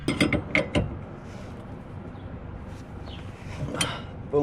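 Wrench loosening a tie rod bolt on a 2007 Nissan 350Z, a few sharp ratcheting clicks at the start followed by quieter scraping and creaking metal, another brief burst of clicks near the end.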